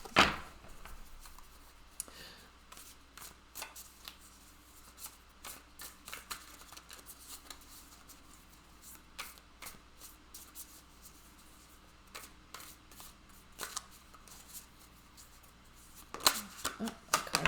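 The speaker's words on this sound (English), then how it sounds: "before we begin shuffling the cards." A deck of tarot cards being shuffled by hand, with soft, irregular riffling and sliding bursts spread across the stretch and a louder flurry near the end, quiet and without talk.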